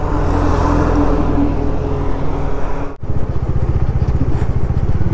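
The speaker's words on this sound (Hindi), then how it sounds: "ट्रैफिक की आवाज़ ज़्यादा पकड़ रहा है।" Road noise on a motorcycle ride toward Zojila, heard from a helmet-mounted mic near construction and trucks, a loud steady engine and wind roar with a brief dip before the engine drone resumes.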